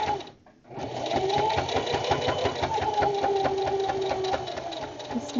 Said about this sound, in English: This machine has some good qualities. Quietness is not one of them.